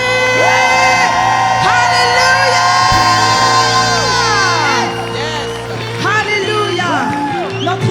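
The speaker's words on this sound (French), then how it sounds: "On va donner un tonnerre d'acclamation à Jésus." A church congregation cheers for Jesus with loud, sustained shouting and high whoops that fill the room, and a voice calls out over the crowd.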